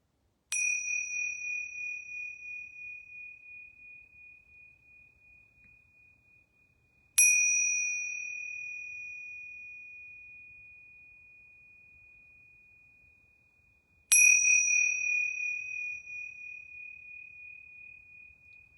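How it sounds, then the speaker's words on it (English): A bell rings three times at the close of a yoga class, each a clear bright strike spaced about seven seconds apart with a long shimmering decay into silence. "I'm going to ring these bells 3 times"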